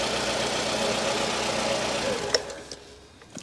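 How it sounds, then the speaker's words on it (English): Car engine idling steadily with a low, even mechanical hum and faint ticking before the mass airflow sensor connector is unplugged, the sound dropping away near the end with a few small clicks. "So the engine is currently running"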